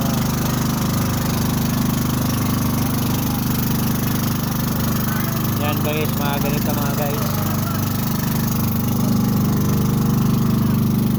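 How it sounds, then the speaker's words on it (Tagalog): A motorboat's twin engines idle together as a loud, continuous low drone with a knocking throb at sea, while someone talks over it. "Bali dalawa ang makina nitong bangka na to."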